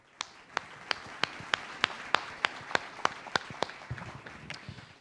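A church congregation claps in steady unison, about a dozen sharp, evenly spaced claps over a soft background murmur, fading at the end.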